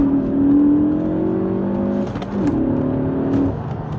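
A Ford Focus ST hot hatch engine pulls hard from inside the car, a loud droning note that rises in pitch, dips briefly at a gear change, then climbs again.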